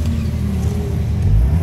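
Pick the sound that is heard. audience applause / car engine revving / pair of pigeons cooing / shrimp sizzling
car engine revving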